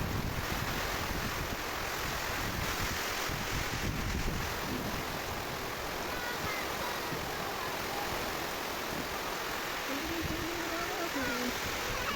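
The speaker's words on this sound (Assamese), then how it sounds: "ইমানে জোৰ জোৰকৈ বৰষুণৰ বতাহ বলি আছে" Strong wind and rain roar steadily against the microphone with a broad rushing noise, like a gusty storm outdoors, continuous throughout.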